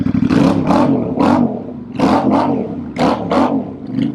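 A Royal Enfield Shotgun 650 motorcycle fitted with forward controls, its exhaust loud and close as the engine is blipped in repeated rising revs, roughly three bursts in quick pairs over a steady low rumble.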